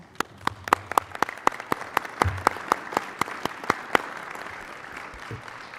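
Sparse applause at an Oregon Tourism Commission meeting, a few people clapping in a quick irregular run of sharp, fairly close claps that thins out after about four seconds.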